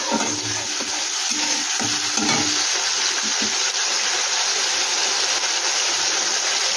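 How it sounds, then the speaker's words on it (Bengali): Tomato frying in a pan gives a loud, continuous sizzle and hiss, with a few stirring knocks early on and then mostly steady frying noise close by. "টমাটোমটা একটু ভেজে নিই গন্ধটা কাঁচা গন্ধটা চলে যাবে"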